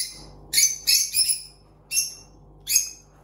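A frightened rosy lovebird in a new breeding cage gives a run of shrill, harsh screeches: about six sharp calls in quick bursts, loud and close over a quiet background.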